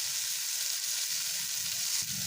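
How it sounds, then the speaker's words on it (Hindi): Chillies and garlic fry over a low flame in a pan, giving a steady, even hiss of sizzling oil that stays close and unbroken. "अब मिर्ची लहसुन फ्राई हो गया है तो इसे हम निकाल लेंगे।"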